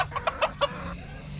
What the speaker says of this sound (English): there are the chickens